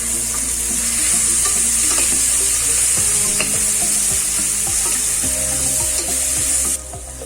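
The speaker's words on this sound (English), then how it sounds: "add ginger garlic paste and turmeric powder and cook it for few seconds" Ginger garlic paste and turmeric powder sizzling with browned onion in hot oil while making mutton korma, a steady loud fry with intermittent stirring scrapes and clinks throughout.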